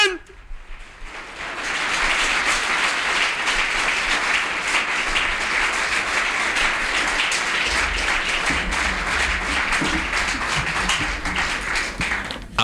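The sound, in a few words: congregation applauding in church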